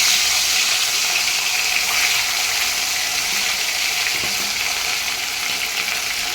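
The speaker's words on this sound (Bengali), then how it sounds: "এই তেল গরম হয়ে গেছে, এবার তেলে দিয়ে দিই" Turmeric-coated fish pieces fry in hot oil for a fish curry, a dense, continuous close-up sizzle that holds evenly loud from start to finish.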